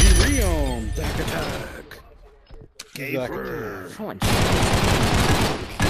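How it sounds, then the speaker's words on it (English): Gunfire in the VR shooter GunRaider, a couple of sharp shots breaking through excited talk, with a dense burst of noisy game sound toward the end. "Somebody just shot Zach in the back."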